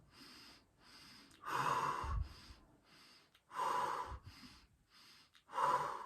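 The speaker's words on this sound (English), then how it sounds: "you're breathing in twice and then exhaling" A breathing exercise with two quick inhales into the chest followed by a long exhale, close and intimate, with loud bursts of breath repeating in a slow cycle and quiet breathing between them.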